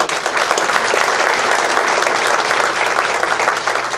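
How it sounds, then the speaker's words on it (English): An audience gives a loud, sustained round of applause for Austin, a student pianist in the jazz band, as a full, even roar of clapping with no voices. "Big round of applause for him on that."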